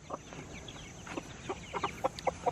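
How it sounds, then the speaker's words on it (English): A chicken clucking nearby in a series of short, quick clucks that speed up toward the end, heard alone over faint background noise. "What is that chicken doing in there?"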